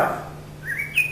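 Common yellowthroat song played back at half speed, stretching the warbler's notes into slow, drawn-out whistles that rise in pitch, fairly faint against a low steady hum.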